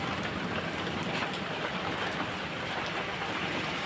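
Heavy rain falls in a constant, loud, dense hiss with no letup, with water pooling and flooding the ground nearby.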